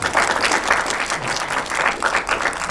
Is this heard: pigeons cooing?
no